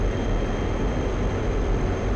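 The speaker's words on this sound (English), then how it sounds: "we'll come out of burners because I don't want to burn all my fuel at once" A fighter jet engine easing out of afterburner in the DCS flight simulator, heard as a steady loud roar from inside the cockpit with a faint high whine above it.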